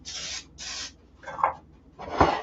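Two short hissing bursts of Baker's Joy baking spray from an aerosol can into an old Pyrex glass dish, followed by light rubbing and a clink against the glass.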